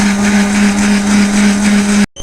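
A kitchen blender runs steadily on mango pieces for ice cream, a loud continuous motor whine with churning grind, then cuts off abruptly near the end.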